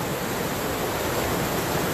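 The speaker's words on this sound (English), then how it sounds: "Yes, the waterfalls are quite lovely, Tracy." Waterfalls pouring into Glen Canyon toward the Colorado River during a flash flood, a steady, dense broadband roar of rushing water that stays constant and fills the scene with no voices.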